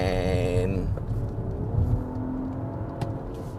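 A BMW X5 45e plug-in hybrid SUV with 400 hp climbs a mountain road at Genting, its engine revving loudly in a rising whine that drops away into a low, steady rumble.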